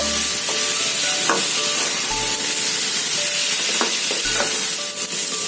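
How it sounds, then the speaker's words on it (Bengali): Onion-tomato masala for a Bengali egg curry frying and being stirred in a pan, a steady loud sizzle with scraping stir strokes and soft knocks recurring through it. "এবার এটাকে আমি একটুখানি কষিয়ে নিয়ে অল্প একটুখানি জল দেব, দিয়ে আবার একটু কষাবো।"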